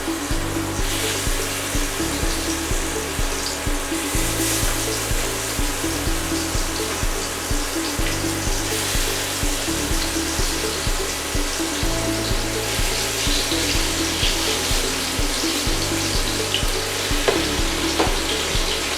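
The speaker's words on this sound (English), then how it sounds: "You can hear that sizzle, and that's really going to get a good sear on this." Spiced short ribs sear in hot olive oil in a pan, giving a loud, steady sizzle and crackle that runs without a break, with small pops and stirring sounds on top.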